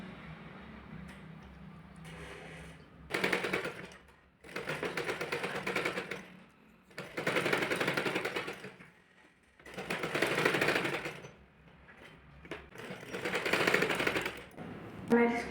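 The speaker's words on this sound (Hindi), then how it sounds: "अब हम यहाँ से इसकी टप सिलाई लगाएंगे।" Sewing machine running in five steady bursts of about two seconds each as it top-stitches a blouse, with quiet pauses between runs and no talk.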